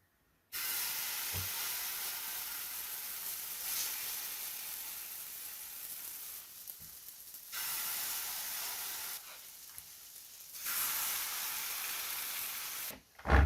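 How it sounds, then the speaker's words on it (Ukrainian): Steady broadband sizzling of pumpkin pancakes frying in a pan oiled with olive oil, continuous and fairly loud, with brief dips and a clatter near the end. "змазуємо сковорідочку олівкою і викладаємо наші млинці"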